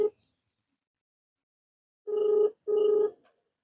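An outgoing telephone call to a police station rings through the handset in two evenly spaced ringback bursts after a stretch of silence, with no talking.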